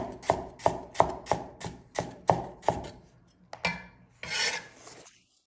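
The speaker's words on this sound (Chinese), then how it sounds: "接下来我们再来切点姜片" A knife slices ginger on a cutting board in a steady run of about eight crisp, evenly spaced chops. The cuts come close and fairly loud, then give way to a couple of scraping sounds as the pieces are gathered.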